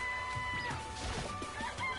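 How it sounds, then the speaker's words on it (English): Chickens clucking in the video game Danganronpa Trigger Happy Havoc, a busy stretch of overlapping clucks and short calls, fairly close and steady, with no talking. "It's a chicken. It's really alive,"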